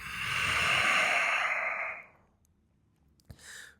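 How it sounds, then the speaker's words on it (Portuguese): A long, steady exhale during a yoga practice breathes out for about two seconds, close and soft, then fades into quiet before a short sniff and a brief second breath. "Solta o ar 5 vezes."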